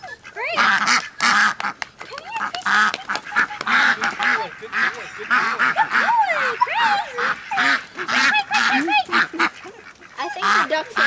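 A flock of ducks quacks and honks in rapid, overlapping bursts, close and loud, while a dog herds them.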